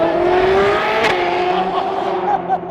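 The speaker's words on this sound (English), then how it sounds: "this Supra, this is a 25-year-old car." A 1997 Toyota Supra's engine hums close by with a steady, slightly rising tone, plus a brief sharp burst midway.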